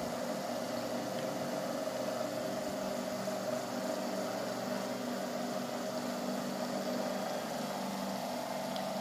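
A homemade BLDC motor spins at a steady speed, giving a faint, even electric hum with a constant whirring drone and no changes in pitch throughout.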